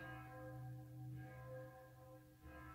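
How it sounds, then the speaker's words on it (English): Church bells in Salzburg, Austria ring in slow, overlapping resonant peals with long humming tones, heard faint and distant. "This is church bells."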